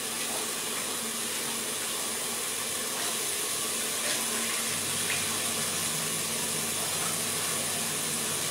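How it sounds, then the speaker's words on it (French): Raw meat rinsed under a running kitchen tap, a steady close stream of water splashing and hissing into the sink for the whole stretch, with no voices. "Moi je vais juste rincer la viande."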